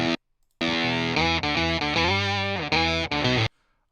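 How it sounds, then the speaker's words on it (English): Stratocaster electric guitar played through an octave pedal set fully wet with lower and upper octaves, giving a loud, sustained, thick distorted tone over a few seconds of held notes and chord changes, with no talking. "Let's see how it sounds with the Strat."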